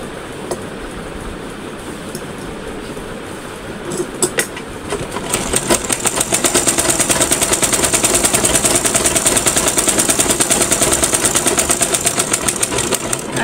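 A sewing machine starts up after a few seconds of quieter background and then runs continuously, its rapid needle clatter loud and close, steady and rhythmic to the end.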